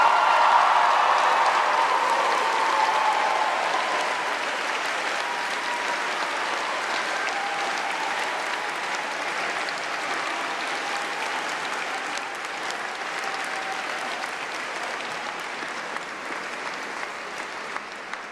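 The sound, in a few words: commencement audience applause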